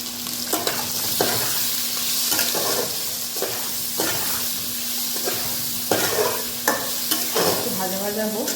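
Ridge gourd and potatoes fry in a pan, a steady close sizzle with repeated stirring scrapes across the whole stretch and a faint hum underneath.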